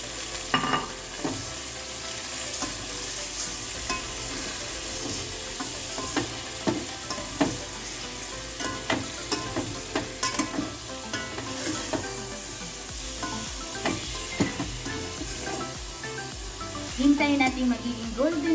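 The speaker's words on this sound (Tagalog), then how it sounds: "Gisahin natin yung ating chicken guys." Chicken sautéing for goto (rice porridge), sizzling in a pan with a continuous fry hiss and frequent clacks and scrapes of stirring, near and moderately loud, with a brief voice near the end.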